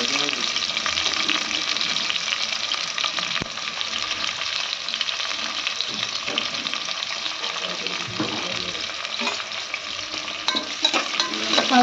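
Chopped onions frying in a pan for South Kanara-style tomato rice make a loud, continuous sizzle with stirring scrapes, close and constant, with faint background noise and no clear talk.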